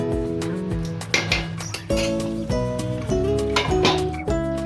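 A lid set over a pot of boiling masoor dal, giving several sharp metallic clinks and rattles against ringing tones, fairly loud and close.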